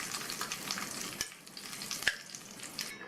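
Steady crackling sizzle of cashews and raisins frying in hot oil in a pan, with a couple of sharp pops partway through.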